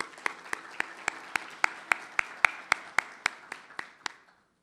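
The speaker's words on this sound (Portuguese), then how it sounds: "Uma salva de palmas" Audience clapping welcomes a speaker at a conference on women's entrepreneurship. It comes as crisp, evenly spaced claps in a steady rhythm, about four per second, then stops abruptly.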